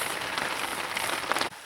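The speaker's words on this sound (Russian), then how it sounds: "дождь в тайге" Rain falling steadily in the taiga forest beneath a cedar tree, a dense continuous patter pattering on needles and foliage, close and fairly loud, ending abruptly.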